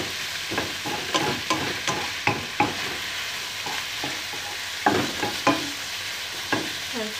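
Chicken pieces fry loudly in a pan with a steady sizzle, while a utensil stirs them in repeated scraping strokes and clacks against the pan throughout.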